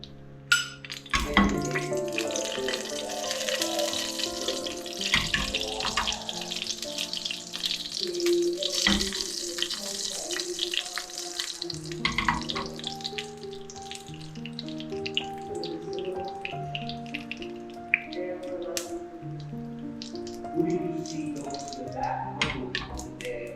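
Mustard seeds splutter in hot oil for a cashew apple chutney, a dense, continuous crackle of pops that is loudest early and eases later, over a steady tonal background.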